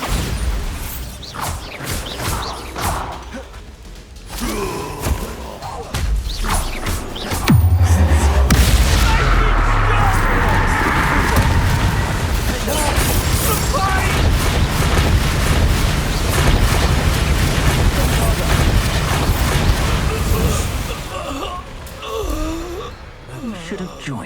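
A Bombarda spell explodes in Hogwarts Legacy during a duel, a loud sudden boom with deep rumble at about seven seconds amid ongoing battle effects and music, voices heard over the fighting.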